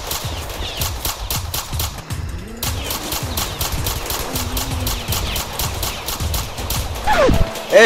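Rapid bursts of automatic gunfire crackle in a Roblox hood roleplay game set in the South Bronx, sharp repeated shots in close, dense volleys over a steady background, with faint voices.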